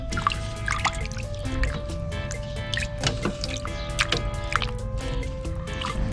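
Fish is rinsed in salt water by hand, with close splashing, dripping and sloshing in a basin, irregular and continuous with a faint tonal hum underneath.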